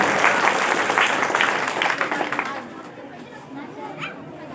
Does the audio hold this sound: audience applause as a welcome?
yes